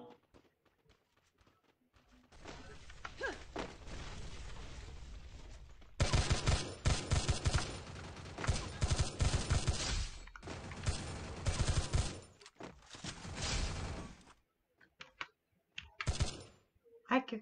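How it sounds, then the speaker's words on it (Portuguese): Bursts of rapid gunfire and action noise from a game, loud in stretches with pauses between, mixed with clicking and occasional voices. "Por que eu não enxergo os tiros?"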